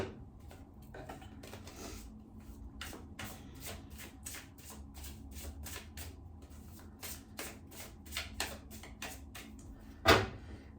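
Repeated riffling bursts of a card deck being shuffled, close and crisp, coming in quick rhythmic waves, ending with a sharp snap.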